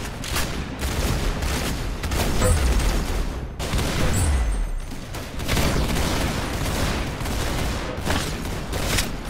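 Gunfire from the Roblox game Arsenal plays as dense, rapid bursts of shots. Low booms appear among them, and the firing rises and falls in loudness across the clip without any talk.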